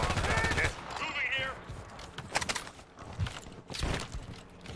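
Gunfire in the video game Warzone, with dense bursts of rapid shots, heavy at the start and returning in louder volleys later, mixed with muffled game effects and some voice chatter.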